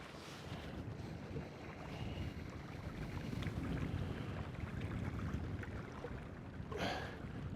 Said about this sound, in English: as soon as that wind picks up, it makes this style of fishing very hard work